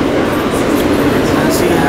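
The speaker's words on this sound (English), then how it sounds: "but the train's moving." A New York Second Avenue subway train rumbles along with a loud, steady roar and rattling wheels, close and continuous throughout.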